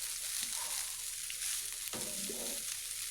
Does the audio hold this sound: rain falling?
no